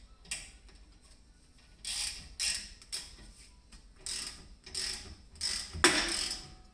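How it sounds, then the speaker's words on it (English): A series of harsh, rasping creaks and grinding cracks in irregular bursts as a rusted rear brake rotor on a Toyota Sienna breaks free from the hub, metal scraping and popping loose up close, with no speech. "what you heard was the rust breaking apart and then separating off the hub."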